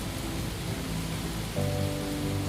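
Cold rain falling steadily during a storm in Philadelphia, a dense close hiss of drops with a low rumble underneath that swells slightly partway through.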